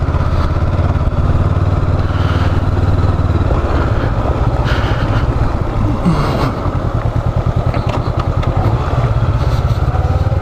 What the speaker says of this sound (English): clutch completely out, no brakes, just cruising down under engine power